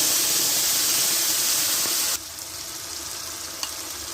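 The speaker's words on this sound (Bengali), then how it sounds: "মশলাটা আমি কষিয়ে নিচ্ছি," Spice paste for a homemade chicken curry sizzles loudly in hot oil, a dense steady hiss that drops abruptly halfway through to a quieter simmering crackle.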